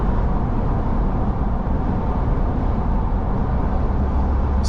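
Steady highway road noise heard from inside the cab of a 2025 RAM 1500 Rebel pickup: a constant low rumble and broadband hiss of tyres and wind at cruising speed, with no talking.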